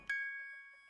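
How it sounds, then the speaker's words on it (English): A single bright chime rings out in a video game and then decays smoothly over most of a second, faint and alone with no talk. "Something is chiming."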